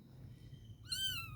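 A pet cat that has just given birth lets out one high, drawn-out meow, sounding loud and close over a low background hum.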